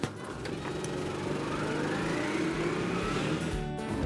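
A tuk-tuk drives through Johannesburg streets, its small engine droning steadily and fairly close throughout, with a broad, rattling hum and no voices.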